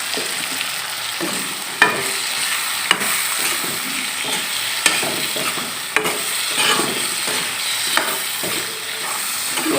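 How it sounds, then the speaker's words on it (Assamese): Tomatoes sizzle steadily as they fry in a pan, a dense continuous crackle with occasional scrape-like stirring clicks, close and fairly loud with no talking. "মই এতিয়া বিলাহীখিনি ভাজি লওঁ ফাৰ্ষ্টতে।"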